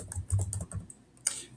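Fingers tap a computer keyboard in a short burst of close, quick keystrokes with a small pause before a final louder clack, no voices present.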